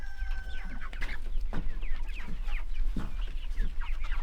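Several meat chickens cluck and squawk close by in a busy, irregular chorus while being moved into chicken tractors, with a faint whine of birdsong behind them.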